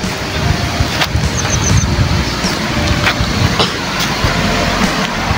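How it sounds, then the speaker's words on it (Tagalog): Strong current of a cold spring river in Karayan, Abra rushes steadily and close by as a dense, continuous broadband wash, with a few faint high chirps and brief knocks over the flow. "Oh, mas malakas ang agos dito."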